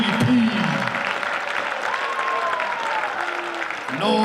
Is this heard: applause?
yes